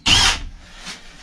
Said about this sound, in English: I gotta drill another hole.